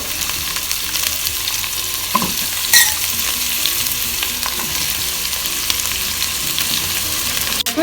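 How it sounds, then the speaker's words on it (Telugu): Vegetables and potatoes fry inside a Geek Robocook electric cooking machine, giving a loud, constant close sizzle with an occasional clink and scrape of stirring, no voices. "ఈ వెజిటేబుల్స్ అన్నీ ఇలా ఫ్రై కావాలి"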